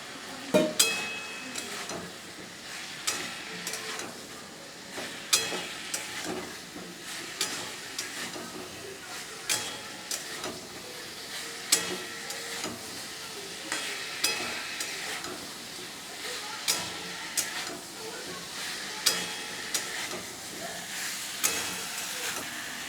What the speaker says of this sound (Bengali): এইবার আমি ভেজে রাখা আলু, পটল এবং সয়াবিনটা দিয়ে ভালো করে মশলার সাথে কষিয়ে নেব।